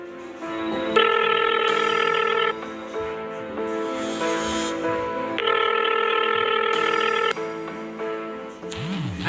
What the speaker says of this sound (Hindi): अरे ये क्या, आलोक ने तो कॉल नहीं उठाया।